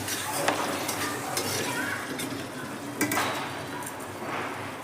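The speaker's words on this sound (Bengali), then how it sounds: "মধু দিয়ে হালকা নেড়ে" A spoonful of honey stirred into a sauce in a pan for Korean-style sweet and spicy chicken, a soft sizzle under scraping spoon strokes with a couple of light clinks.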